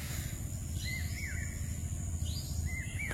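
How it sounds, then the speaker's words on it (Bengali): Birds chirp and whistle in short rising and falling calls over a rural village garden in the morning, fairly faint against a steady low background hum. "পাখি ডাকতেছে, কি সুন্দর।"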